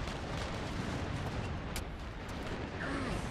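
A grenade goes off amid a dense, continuous roar of battle in Warhammer 40,000: Eternal Crusade, with booming blasts and gunfire layered loudly throughout.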